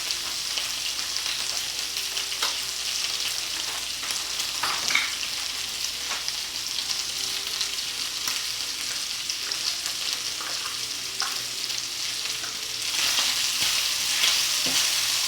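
Peas sizzle and fry steadily in a skillet with kung pao chicken and red bell pepper, a close, continuous crackle with occasional stirring scrapes and no talking.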